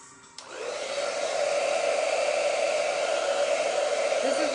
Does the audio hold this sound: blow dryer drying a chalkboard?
yes